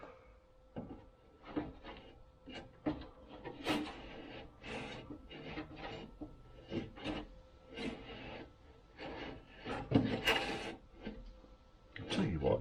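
The window regulator on a 1971 Range Rover grinds and scrapes in stiff, uneven bursts as the glass is cranked, with rough rubbing and creaking strokes up close and brief pauses between them.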